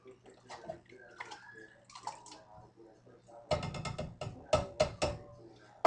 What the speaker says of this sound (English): I'm going to pour in everything in the pot with the juice